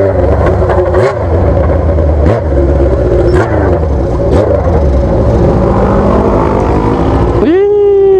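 A car engine revving hard and repeatedly, loud and close, with gear changes and a final rising whine as it pulls away; voices are faint underneath.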